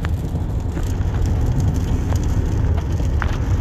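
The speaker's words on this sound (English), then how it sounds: "it's raining really bad" Steady, dense rain noise with a low rumbling wash and scattered light patters, continuous and fairly loud throughout.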